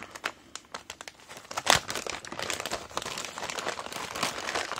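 Crinkly plastic packaging of a resin mould set being opened by hand, close and busy, with bursts of crumpling and a sharp tearing rip early on, continuing in uneven rustles.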